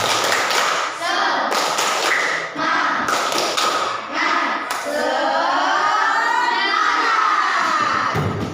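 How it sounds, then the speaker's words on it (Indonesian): Schoolchildren perform the rhythmic 'tepuk semangat' clapping chant together in a classroom, sharp patterned hand claps and taps alternating with loud shouted chanting from the group, close and energetic throughout. "Tepuk semangat."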